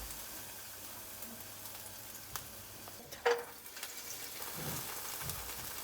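Garlic frying in hot cooking oil in a pan, a faint, steady sizzle with a brief clatter midway, no talking.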